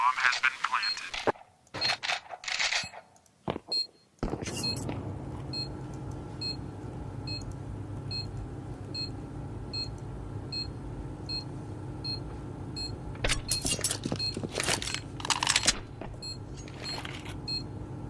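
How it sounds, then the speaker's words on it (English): Counter-Strike match on Nuke at a Major tournament, G2 against 3DMAX: a planted bomb's steady repeating beeps tick along under game noise, with bursts of gunfire at the start and again later. "Bomb has been planted."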